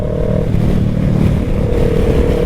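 A motorcycle passes nearby on a road, its steady, loud engine rumble filling the moment with no talking.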